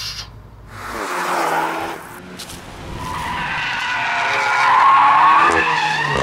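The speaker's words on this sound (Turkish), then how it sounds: "Yani bir motoru var bu arabanın. Güzel bir motoru var." Cupra car engine revving while driving, a loud, continuous roar that climbs and swells in pitch, heard alone with no talk.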